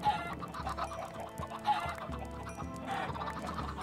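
Minecraft chickens cluck repeatedly in a game scene, a busy overlapping chorus of short clucks and squawks at moderate volume with no talking.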